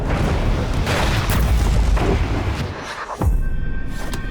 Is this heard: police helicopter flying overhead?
no